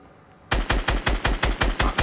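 Fortnite automatic rifle fire, a close, loud string of about eight evenly spaced shots in quick rhythm following a brief quiet moment.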